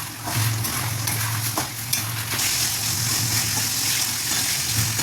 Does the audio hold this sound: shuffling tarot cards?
no